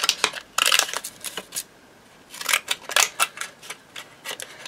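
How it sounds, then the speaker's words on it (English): Fancy-edge scissors snip through paper in quick, crisp bursts, with a pause between two clusters of cuts, close and clear. "I'm going to use a pair of these fancy edge scissors just to trim it down"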